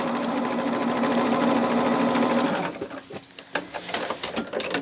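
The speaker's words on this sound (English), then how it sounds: "we will then just sew it together" A sewing machine stitches quilt pieces together, a steady close whirring hum for a few seconds that then breaks into short uneven bursts and clicks as the stitching slows.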